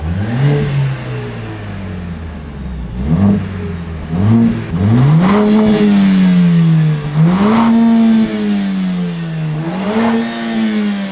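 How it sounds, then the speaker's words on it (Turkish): An Audi A5 engine revs repeatedly in rising and falling surges, loud and close, each burst of throttle climbing then dropping back to idle. "Ver bakayım gazı."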